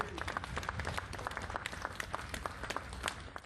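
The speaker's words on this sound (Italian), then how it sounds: "non manca un applauso liberatorio" Onlookers in Venice break into faint, scattered applause of relief as firefighters lift a newsstand out, with the clapping spread through a distant outdoor crowd.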